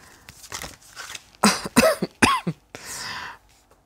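A woman coughs several times in a short, uneven cluster, each cough close and sharp, with a softer breathy trailing sound at the end.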